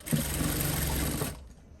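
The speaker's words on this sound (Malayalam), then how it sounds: "കൈയെടുക്കാതെ തന്നെ ഇതുപോലെ ഇങ്ങനെ ഒന്ന് തയ്ക്കുക" A sewing machine stitching fabric along a shoulder seam gives a loud, steady, buzzing whir up close for just over a second, then cuts off abruptly into quiet.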